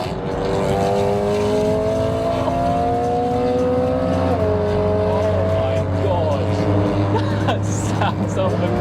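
Engine of a car bought to replace a 730 bhp BMW M140i roaring loudly as it drives along the road, a sustained droning growl that rises and shifts pitch with tyre and road noise.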